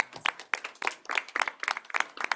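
Scattered applause in a school board meeting room, a modest group clapping unevenly and fairly close, with individual hand strikes audible throughout.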